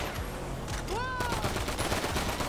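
Rapid automatic gunfire rattles continuously in the GTA 5 Online game on PS5, dense and fairly loud, with a brief whistling tone partway through.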